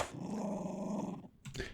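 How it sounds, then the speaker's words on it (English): A dog growls in a long low rumble from a sound effects library, then gives a short sharp bark near the end, close and alone. "It just sounds like a bark, which is, a dog bark, which is not what was really interested in, but this like little growling bit that I liked more."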